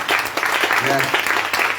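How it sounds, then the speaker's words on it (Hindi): A church congregation at a Sunday prayer service in Nagpur breaks into vigorous applause to welcome the pastor, with continuous close clapping and a brief voice rising underneath. "और जोरदार और तालियों की गड़गड़ाहट"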